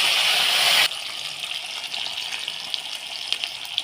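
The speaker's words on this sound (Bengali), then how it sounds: "কড়াইতে কিছুটা সর্ষের তেল দিয়ে দিচ্ছি, 5 ফোঁটন, শুকনো লঙ্কা, এবার কেটে রাখা কচু দিয়ে দিচ্ছি" Chopped taro hitting hot mustard oil in a wok with dried chillies and five-spice seeds, a loud burst of sizzling at first that drops to a steady, softer crackling fry with small pops.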